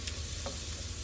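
Mushrooms sautéing in butter in a pan give a steady, soft sizzle, with a couple of brief spatula scrapes over the hiss. The cooking sounds are close but quiet, and there is no talking.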